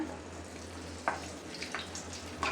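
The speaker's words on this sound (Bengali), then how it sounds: "এখন আলু চিপস ভাজছি" Homemade potato chips frying in a pan, a faint, even sizzle over a low hum, broken by a few soft clicks and light stirring taps.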